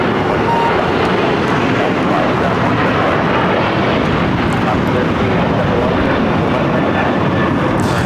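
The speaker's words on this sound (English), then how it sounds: "This is Alaska Airlines 1371 taking off to Seattle on the 737-900." Alaska Airlines Boeing 737-900 jet taking off at LAX, a loud steady roar of jet engines that fills the whole stretch without letup, with faint talk in the background.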